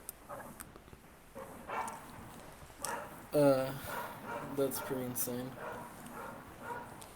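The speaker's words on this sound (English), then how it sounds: "Man, sorry for the neighbor's dog." A neighbor's dog barking in the distance, a few short muffled barks in a loose cluster, faint under people talking nearby.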